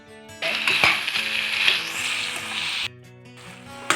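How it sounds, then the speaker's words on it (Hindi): Vegetables frying in a pan for a Bihari khichdi thali, a steady close sizzle with stirring and scraping through most of the stretch before it drops to a softer hiss near the end. "तो चलिए इनको हम सब्जी को फ्राई कर लेते हैं, जिससे कि सब्जी का सारा कच्चापन भी समाप्त हो जाए।"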